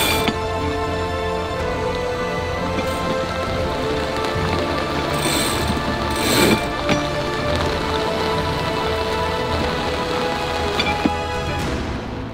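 Heavy rain pours steadily onto the deck of a sailing yacht at sea, a dense, constant close hiss with occasional louder gusts and spatters.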